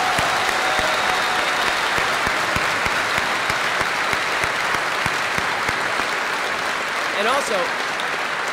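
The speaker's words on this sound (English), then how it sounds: "Let's give a quick round of applause to the security here" A university lecture crowd claps steadily in a quick round of applause for the security staff and police officers, a continuous wash of hands with a brief voice speaking near the end.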